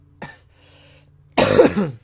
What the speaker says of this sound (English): Hang on, I have to cough.